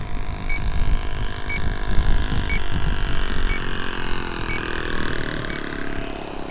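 A Flair Magnatilla RC model plane comes in to land on a calm, sunny day, its small engine droning steadily at mid distance with wind and broadband rumble, no voices.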